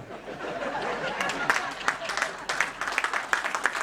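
An audience breaks into applause that swells and grows more rhythmic, with crowd chatter mixed in.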